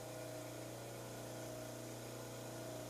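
A model trimmer grinds the heels of an orthodontic plaster cast, producing a steady motor hum with a continuous whirring grind, unchanging and close throughout.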